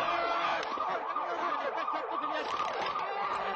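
An ambulance siren wails in repeating rising and falling sweeps, loud and continuous over a dense roar of street and traffic noise, in Gaza, with no voices.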